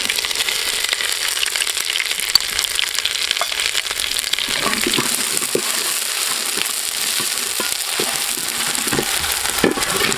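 Ginger and garlic paste sautéing in a hot oiled pan gives a steady, close sizzle and crackle, with scattered clicks and scrapes from stirring throughout and no talking.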